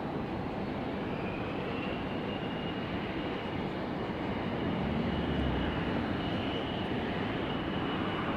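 A Sun Country Airlines jet taxis at Raleigh-Durham airport, giving off a continuous low engine rumble with a faint whine, steady and moderately distant, swelling slightly midway.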